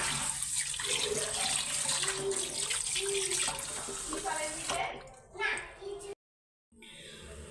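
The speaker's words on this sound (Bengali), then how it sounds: "চালটা ধুয়ে নিতেছি" Running water splashes and swishes in a basin as polao rice is rinsed, close by, with faint voices in the background before a brief cutoff.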